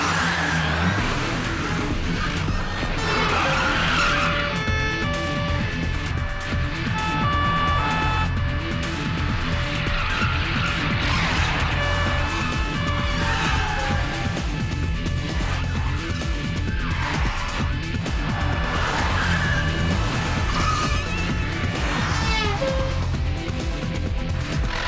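Police car chasing a grey minivan at a roadblock, engines roaring loud and close with repeated tire squeals and skidding, tense music running underneath throughout.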